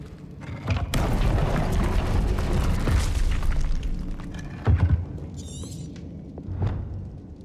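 Incendio fire spell cast in Hogwarts Legacy, a loud whooshing, roaring burst of flame lasting a few seconds, followed by quieter thuds and a brief shimmering magical chime.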